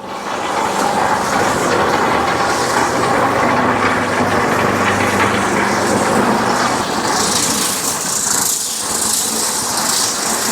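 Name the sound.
concrete mixer engine idling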